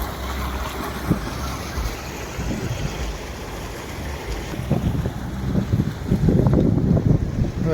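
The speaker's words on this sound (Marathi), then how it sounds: "तुम्हाला आता पाणी दाखवतो किती जोरात पाणी आहे" Floodwater rushing and churning nearby in a normally dry river, the Sina in Maharashtra, with gusting wind buffeting the microphone; the roar grows louder and more turbulent toward the end.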